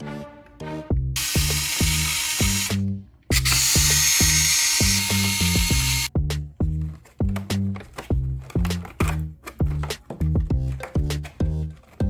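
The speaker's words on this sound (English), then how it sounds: "After that, you're gonna remove 3 screws." A powered screwdriver drives screws out of the cover of a Lenovo ThinkCentre all-in-one computer, two long loud whirring bursts followed by a run of short ratcheting pulses, all close and without talk.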